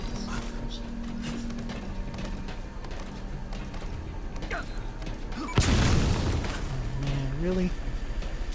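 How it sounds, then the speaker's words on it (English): A sudden loud boom bursts out in a military shooter game, breaking a tense low ambience with a sharp blast and rumbling tail, followed by a voice speaking over the fading aftermath. "Heard an explosion."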